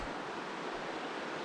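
Steady broadband rush of flowing creek water at 10 Mile Creek in the Gospel Hump Wilderness, Idaho, continuous and close with no voices.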